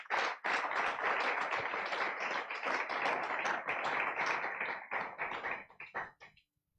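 Congregation at a Spanish-language church service giving an applause offering, a close, dense burst of clapping that stays full for several seconds before breaking into scattered final claps and stopping.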